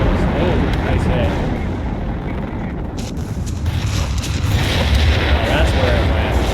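Artillery fire in the Company of Heroes 3 video game, a steady, dense rumble of distant booms and blasts filling the whole stretch, with a voice talking over it.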